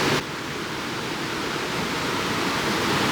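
River rushing through a rocky glen in North Wales, a steady, full-bodied roar of turbulent water heard close by, continuous and unbroken with no voices.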